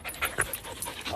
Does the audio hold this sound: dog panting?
yes